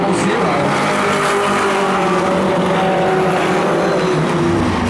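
Four-cylinder pro race cars circle a short oval track in a loud, continuous engine roar. The dense whine shifts slightly as cars pass, and a commentator's voice runs underneath.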